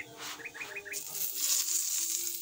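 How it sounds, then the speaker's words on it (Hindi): Birds chirp outside in the early morning, a quick run of four bright, evenly spaced tweets up close and then a busier wash of higher twittering and rustling. "तो इस टाइम चिड़ियों की आवाज़ें भी बहुत प्यारी आ रही हैं।"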